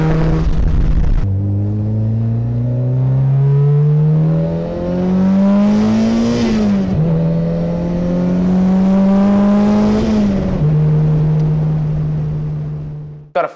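A 1971 Toyota KE20 Corolla with a 1.6-litre 4A turbo engine runs loud and close, its steady drone rising and falling through several revs before cutting off abruptly.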